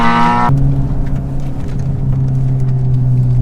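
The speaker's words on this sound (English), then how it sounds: "I'm just out with Thomas now in the Mark 7, Peron Stage 2 Pro remap, and all the necessary mods." A Mark 7 car with a Stage 2 Pro remap and supporting mods runs fast on a passenger lap. Its engine note shifts sharply within the first half second, then settles into a loud, close, sustained drone.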